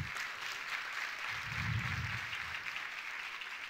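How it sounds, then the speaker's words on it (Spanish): An audience at a panel discussion on political financing and gender welcomes the panelists with steady, fairly soft applause, even clapping that continues throughout with no voices over it. "Con un aplauso le damos la bienvenida."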